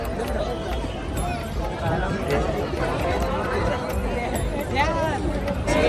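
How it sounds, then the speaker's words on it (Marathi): Busy crowd at ISKCON Temple in Kharghar, a continuous hubbub of many overlapping voices and footsteps close around, with occasional nearer chatter rising out of the babble. "इस्कॉन टेम्पलला आलेलो आहे गर्दी भरपूर आहे बघा गर्दीच गर्दी"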